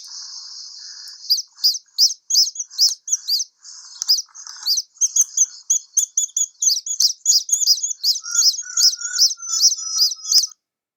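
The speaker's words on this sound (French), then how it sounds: "Range bien l'image du petit poussin qui piaille dans ta tête." One-day-old baby chicks cheep constantly, shrill high peeps repeating in quick overlapping bursts, close and loud, with no talking.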